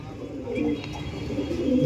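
Owl-face Madras pigeons, black birds kept in a loft, give soft low cooing calls close by, a few rolling coos swelling toward the end.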